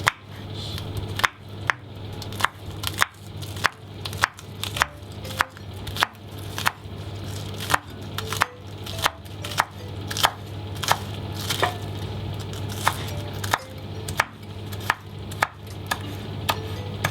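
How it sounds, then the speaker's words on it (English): A knife slicing spring onions on a cutting board, with steady rhythmic chops repeating about every second, crisp and close, with no talk. "We've got our spring onions which we're going to slice."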